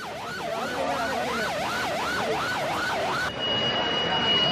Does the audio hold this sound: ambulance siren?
yes